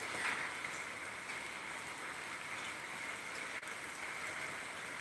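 Rain falls steadily outdoors, a soft, even hiss of drops that stays constant throughout without voices.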